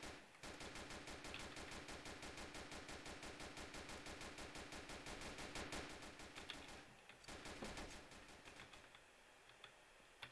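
Rapid automatic gunfire in a police video game set in Hamburg, a fast steady burst of even shots that runs for several seconds before breaking off into quieter game sounds.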